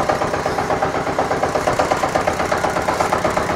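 The engine of a homemade 4x4 tractor with chain drive runs loud and close in a steady rhythmic chug, its even pulsing beat carrying on throughout with no speech.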